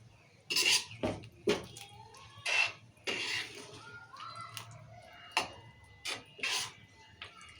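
A spoon scrapes and clinks against a metal pot of chicken curry masala in uneven bursts, close up and fairly quiet, with no talking.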